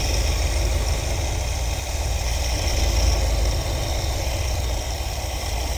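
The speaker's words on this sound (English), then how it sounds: "We're idling at about 600 RPMs right now." Engine of a 1973 Ford Econoline with an Edelbrock carburetor idling around 600 RPM, a steady, close, low rumble that continues without pause and with no talking.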